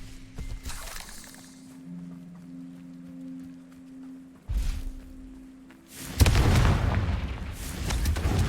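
A fire explosion spell in the Hogwarts Legacy video game goes off after a sustained magical hum, with a sharp burst midway and then a loud, roaring blast that fills the end.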